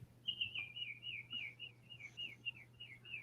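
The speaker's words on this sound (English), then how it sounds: "I mean, I hear birds now" Songbirds chirp outdoors in a steady run of quick, bright, warbling whistles that repeat without a break, moderately close, over a low, constant background hum.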